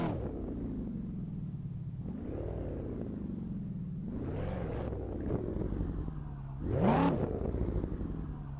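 Million-dollar car in the Assetto Corsa racing game, its engine droning steadily with three sharp rising revs as it accelerates and downshifts, the last surge the loudest.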